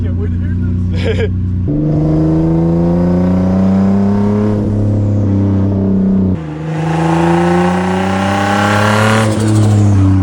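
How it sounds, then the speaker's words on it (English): A single-turbo DE Nissan 350z accelerates hard through the gears with a loud, steady engine drone that climbs in pitch, drops at a shift, and climbs again. Turbo whistle rises over the engine note, and voices talk over it. "I'll let off right before your driveway to try to get some turbo noise"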